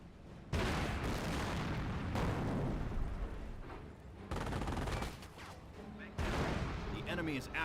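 Gunfire aimed at advancing rifle squads in the video game Company of Heroes: sustained loud crackling fire and booming blasts in long stretches, with a voice talking over the battle.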